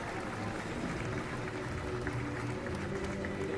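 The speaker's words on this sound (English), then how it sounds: "A big round of applause and heartiest congratulations to all." An audience at a school annual day celebration claps steadily, a dense even patter of applause filling the hall at moderate level.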